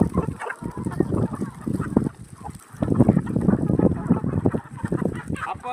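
Poultry at an organic egg farm are fed onion greens, and a flock clucks and squawks in a busy, overlapping chorus, loud and near, with brief lulls.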